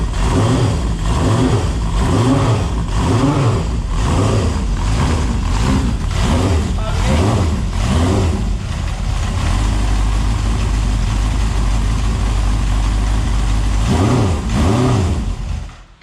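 A Honda motorcycle engine under restoration runs steadily and loudly throughout, with a rhythmic low chug and some revving, then cuts off abruptly at the end.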